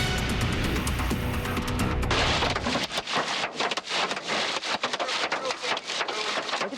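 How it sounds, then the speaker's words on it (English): Hail pounds a car windshield during a storm in Alabama, a loud dense hammering of hard impacts that starts as a roaring wash and breaks into rapid sharp clattering hits close to the glass. "Hail pounding the windshield, causing serious damage."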